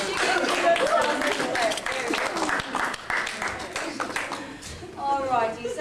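A tour group in Auckland, New Zealand, claps for themselves, with scattered applause mixed with lively chatter and voices throughout, fairly close.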